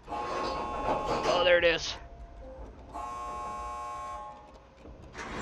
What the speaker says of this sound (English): Here comes the beeping.